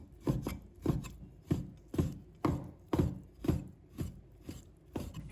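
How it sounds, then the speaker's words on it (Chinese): Chicken thigh and breast meat is chopped into mince on a board with a steady run of about a dozen sharp, close knife strikes at an even rhythm, with no talking. "然后再给它剁成肉末"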